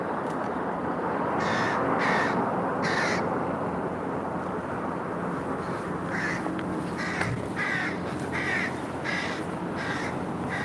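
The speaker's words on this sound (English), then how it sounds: "I can hear a crow or a rook in the trees." A crow or rook caws from the trees in the historic town of Alnwick, repeating harsh calls in short bursts over several seconds against a constant outdoor hiss of wind or traffic, moderately close and clear.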